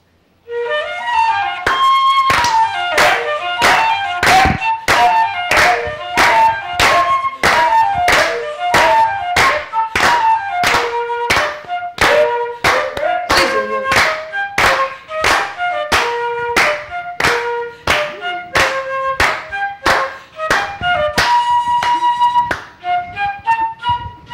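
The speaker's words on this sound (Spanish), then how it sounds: "Y me acompañan con palmas." An audience at a folklore pageant claps along in a steady, even beat for over twenty seconds, loud and sharp over a melodic tune, with no speech.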